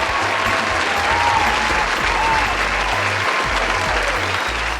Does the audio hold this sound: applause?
yes